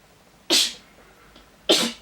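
Two sharp sneezes burst out close to the microphone about a second apart, each a sudden loud blast fading quickly into quiet.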